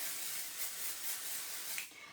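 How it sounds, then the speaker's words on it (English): A pixie spray bottle misting, giving a soft, continuous hissing spray at close range that fades out near the end, with no voices. "I'm going to grab my pixie spray."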